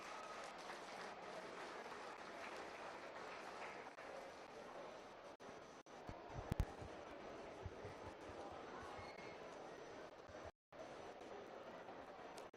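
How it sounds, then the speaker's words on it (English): Audience applause for youth exhibitors at a 2024 beef showmanship livestock show, a steady broadband wash of clapping filling an arena with crowd noise, continuing nearly unbroken for about twelve seconds with a brief dropout near the end. "So give these exhibitors a round of applause."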